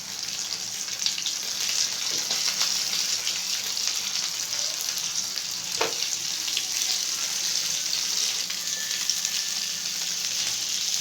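Lemon masala fish pieces fry in hot oil, giving a steady close sizzle with occasional sharper crackles and a faint clink near the middle, no voices.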